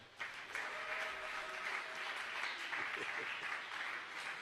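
A church congregation breaks into sustained, even applause that fills the room for several seconds, a steady wash of many hands clapping together.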